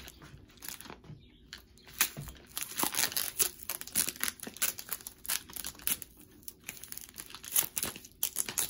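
Candy packages wrapped in lots of sticky tape are torn open up close, with continuous quiet crinkling, ripping and crunching of wrapping in irregular bursts.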